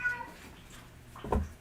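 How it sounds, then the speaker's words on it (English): A single short meow sounds faintly from a distance near the end, after a stretch of quiet room tone. "It was a meow off in the distance."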